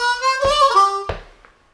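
Quick blues lick on a harmonica, a few sustained reedy notes sliding and bending in pitch, then a sharp final accent fading away, close and unaccompanied.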